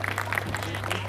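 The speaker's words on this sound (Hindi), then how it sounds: "पुरजोर तालियों से इस्तेकबाल करें शेख सिकंदर साहब का।" Audience applause welcoming a poet to the stage at a mushaira in Shirpur, a steady wash of clapping from a crowd over a low constant hum, lasting about a second with no voices.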